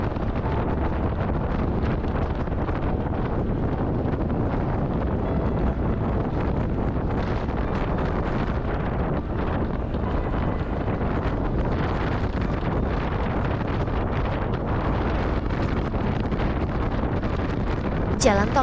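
Strong wind sweeps across the Bali Mandara toll road over the sea during an electric motorbike ride, heard as a loud, continuous roaring buffet against the microphone that never lets up.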